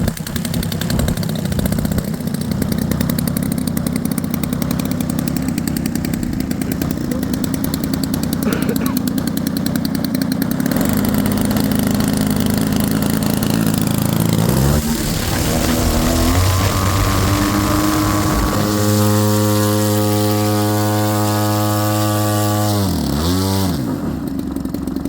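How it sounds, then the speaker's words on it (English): EPHIL 60cc-S Pro gasoline engine with electric starter, spark plug and electronic ignition, firing up for its very first run on its first tank of fuel: a loud, steady buzzing roar that idles, then revs up and down in sweeping pitch changes. "Very first start, first tank of fuel, first fire up on that engine."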